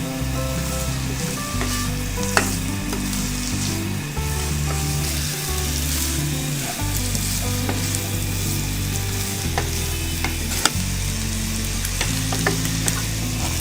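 Vegetables fry in a pan for seekh kabab pasta with a steady, close sizzle and occasional stirring clicks, all under continuous background music and with no speech.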